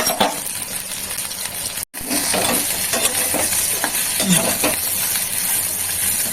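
Bean fritters sizzle steadily in a hot pan with a constant hiss, broken by scraping and stirring clinks and one brief dropout.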